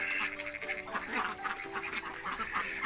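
Ducks recently through molt quacking close by in a steady, overlapping chorus of raspy calls lasting a few seconds.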